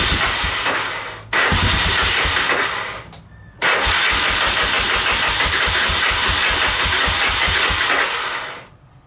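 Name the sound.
1988 Honda 300 Fourtrax ATV engine starting and idling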